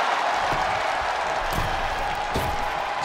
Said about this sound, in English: And Rey is getting the crowd going.